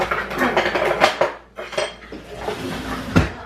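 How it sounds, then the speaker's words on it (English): A metal ladle stirs homemade wassail in a pot, making close, loud clanks and scraping knocks against the sides in irregular bursts, with a brief quiet gap midway. "Ladle. Works. Give it a good stir."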